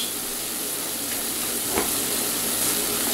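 Beef stock for vegetable beef soup pours through a strainer into a pot, giving a steady, even rushing hiss with a faint splash partway through, heard on its own without talk.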